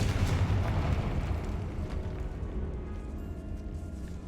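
Confringo spell explosion in the Hogwarts Legacy video game inside a decayed catacomb, a heavy low boom that rumbles and slowly fades with scattered debris crackle, no speech.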